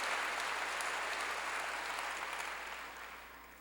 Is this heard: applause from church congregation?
yes